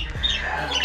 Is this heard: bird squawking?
yes